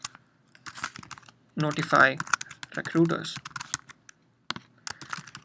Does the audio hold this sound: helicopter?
no